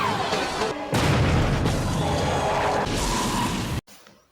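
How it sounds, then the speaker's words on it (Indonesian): Gunfire from a film scene in which a man shoots at predator creatures, a dense, loud barrage of booming blasts sustained for several seconds before cutting abruptly to near silence. "Tidak lama Daniel datang dan menembaki para predator."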